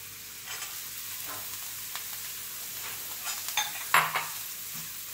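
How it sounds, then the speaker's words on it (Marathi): Finely chopped cabbage goes into a hot pan and is stirred, with a continuous frying hiss under scraping utensil strokes and a sharper clatter near the end, heard up close. "ते एक बाउल बारीक चिरलेला कोबी टाकतीये,"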